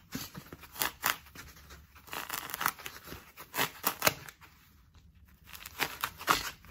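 A foam pool noodle being cut crosswise with a blade, a close series of squeaky, rasping sawing strokes in uneven bursts with brief pauses.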